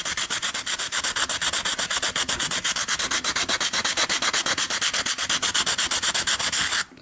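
Rough sanding block rubbing back and forth on a rigid Primochill PC water-cooling tube, a loud, close, steady rasping in rapid even strokes that stops abruptly at the end.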